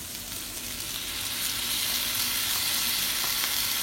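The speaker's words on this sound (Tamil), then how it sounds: "இனி மிக்ஸ் பண்ணி வச்ச சோஸ் அதுக்குள்ள ஆட் பண்ண போகிறேன்." Chilli chicken sizzling loudly in a pan as a mixed sauce goes in, a steady dense hiss that swells slightly and holds, with no talking.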